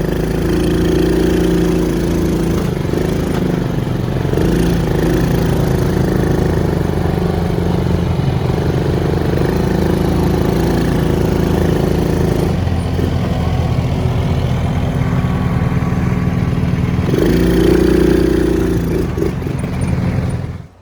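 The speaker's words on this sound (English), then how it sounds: "we're just gonna rip a four-wheeler" A four-wheeler ATV engine runs steadily nearby, a loud continuous droning rumble with slight rises and dips in revs over about twenty seconds, no talking.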